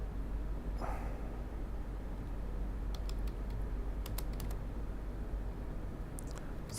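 MATLAB code being typed on a computer keyboard, sparse clusters of light key clicks over a steady low hum of background noise, quiet and close, with no talking.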